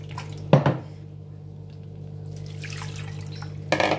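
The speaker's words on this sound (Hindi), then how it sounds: "साफ पानी से एक बार और धो लेंगे।" Soaked poha rinsed with clean water in a strainer: two brief splashing pours of water, about three seconds apart, with a quiet dripping lull between them and no talking.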